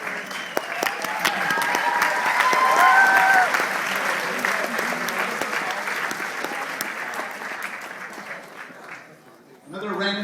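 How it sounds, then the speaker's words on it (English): Applause from a modest crowd greets fencers after a bout demonstration, with dense steady clapping that swells and then fades, a few voices over it, and a brief burst of talk at the end. "Give them a round of applause."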